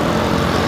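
A small propeller airplane drones overhead near busy traffic, a steady, loud broadband engine roar filling the short moment without any talking.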